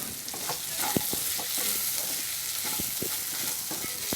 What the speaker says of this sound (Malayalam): എണ്ണ ഒഴിച്ച് കൊടുക്കുക.